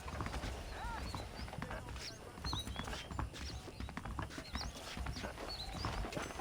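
Horse hooves clip-clop at a steady walking rhythm in the Red Dead Redemption game, close and fairly quiet. Birds chirp, a horse snorts, and someone talks over the hoofbeats.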